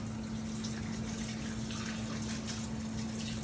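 Tap water gushes steadily over hands being washed at a sink during home cookie baking, a continuous loud splashing rush with no pauses, with no voices.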